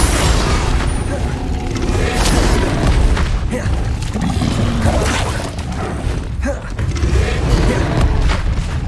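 Spell blasts in Hogwarts Legacy combat, with Confringo, Expelliarmus and Incendio cast one after another. Loud, near booms and crackling impacts form a dense, steady barrage with brief punchy bursts throughout.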